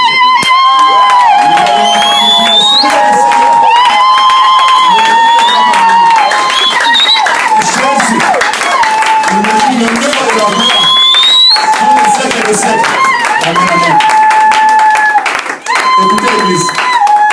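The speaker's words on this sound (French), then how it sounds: "maintenant, nous allons acclamer pour le roi des rois et des seigneurs" A church congregation cheers and applauds for the King of kings, loud clapping and shouting under a continuous sung or chanted voice with sustained tones, staying strong across the whole stretch.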